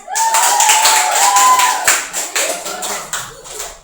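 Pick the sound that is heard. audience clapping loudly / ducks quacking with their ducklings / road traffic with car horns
audience clapping loudly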